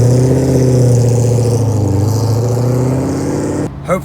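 Engine of a base-model, naturally aspirated Chevrolet Corvette C6 with aftermarket off-brand mufflers revving loud and close, a deep steady rumble rising and falling before cutting off abruptly near the end.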